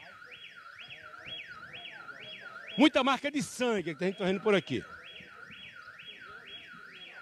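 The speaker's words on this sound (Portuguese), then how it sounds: "O alarme começou de novo." A wailing alarm sounds in a cordoned-off crime scene area, a repeating rising sweep tone that loops steadily at a moderate distance and carries on under someone speaking in Portuguese.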